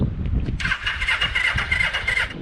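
A student-built cafe racer motorcycle engine being cranked and catching, a loud continuous rough mechanical whir and buzz close by for a couple of seconds.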